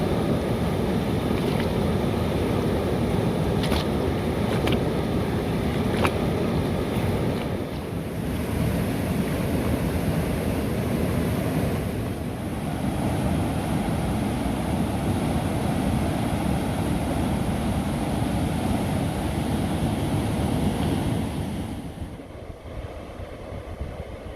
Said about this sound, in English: There's an awful lot of rushing water